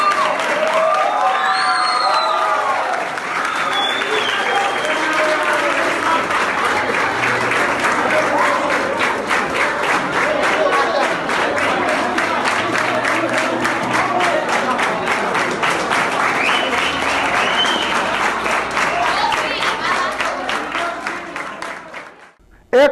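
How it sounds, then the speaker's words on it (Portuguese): Students and teachers at a school event in Brazil applaud steadily for over twenty seconds, a dense wash of clapping with occasional voices and shouts mixed in, fading abruptly at the end. "dos aplausos a ela direcionados pelos alunos e professores da Escola Bartolvino Costa"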